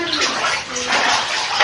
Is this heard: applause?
no